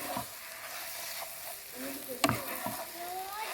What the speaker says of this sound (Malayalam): ഇട്ട് നന്നായിട്ടൊന്ന് വഴറ്റാം.